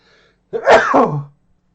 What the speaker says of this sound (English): I'm going to sneeze, hang on.